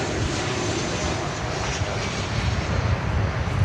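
Engines of an American Airlines airliner in heritage livery with AA on the tail roar close and loud at DFW Airport, a broad steady rumble with no voices.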